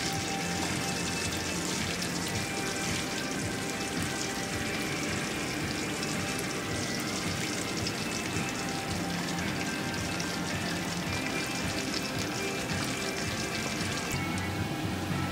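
Mutton rolls coated in breadcrumbs deep-fry in hot oil, Sri Lankan style, giving a steady, dense, loud sizzle and crackle that runs without pause throughout.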